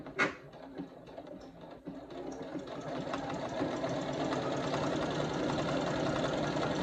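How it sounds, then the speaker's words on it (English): A sewing machine stitches a fall pumpkin quilt, running as a steady, continuous mechanical whir that builds and then holds at an even level, with no talking. "when it's doing stitches, you have to let the machine just go"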